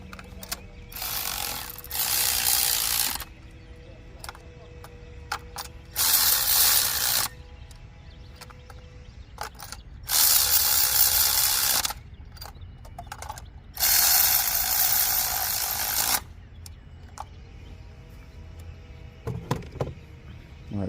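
A ratchet spins spark plugs down into a Ford Focus engine during a tune-up, giving four loud bursts of rapid clicking separated by quiet pauses, with a few faint clinks near the end.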